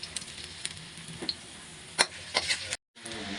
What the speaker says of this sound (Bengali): এখানে একটি কড়াই বসিয়ে দিয়েছি তার মধ্যে দিয়ে দিলাম সরিষার তেল এখন দিয়ে দিব পেঁয়াজ আর দিয়ে দিলাম এখানে রসুন কুচি